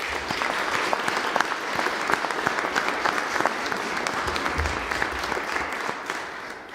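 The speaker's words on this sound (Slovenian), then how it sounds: "Vseeno prosim za en aplavz." Audience applause at a university ceremony in Ljubljana conferring emeritus professor titles: a steady, dense patter of many hands clapping, sustained for around seven seconds and fading slightly at the end.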